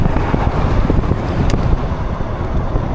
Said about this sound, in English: when it's really windy, you really feel it pushing you a little bit